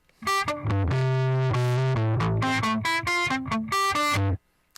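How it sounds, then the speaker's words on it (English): A heavily distorted guitar plays a choppy sequence of sustained notes and chords, thick and buzzy, then stops abruptly. "You could also go ahead and add a distortion effect to it."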